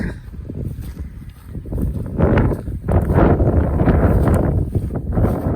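Gusty wind buffets the microphone on a desert ridge trail, a steady low roar that swells louder partway through and stays strong to the end, with no talking.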